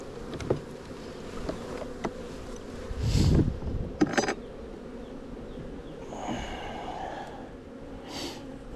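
Honey bees buzz around an open hive in early spring while maple nectar is coming in, a low steady hum with a few louder passes of bees flying close to the microphone.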